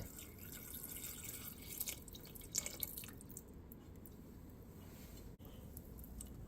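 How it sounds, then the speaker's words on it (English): Beef broth pouring into a pan of seasoned hamburger, a soft steady liquid trickle with a few drips and splashes, quiet and without talk. "And in goes the beef broth."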